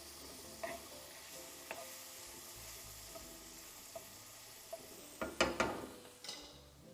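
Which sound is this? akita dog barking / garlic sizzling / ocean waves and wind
garlic sizzling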